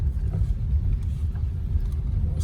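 A 1947 Packard Super Clipper rolls along at low speed, its engine a steady, close, low rumble with no revving.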